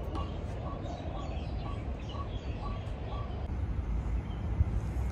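Birds call in a park bird sanctuary in Taipa, Macao, giving short, faint chirps that repeat at a steady pace over constant low outdoor rumble.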